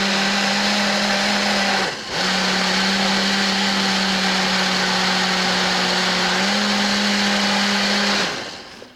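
A countertop blender runs steadily at high speed, blending a breakfast smoothie with a loud, even whir, then dips briefly and spins back up before stopping.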